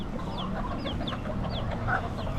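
Free-roaming Key West roosters and hens cluck steadily nearby while several short crows and calls rise over the flock, with no talk.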